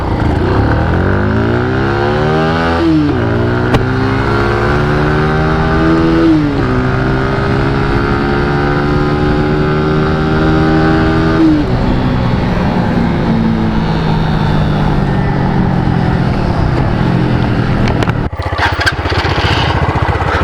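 Two 125cc motorcycles, a Grom clone and a Vader 125, accelerate hard side by side in a drag race, engines revving loudly with rising pitch through several gear changes, steady and close throughout before cutting off near the end.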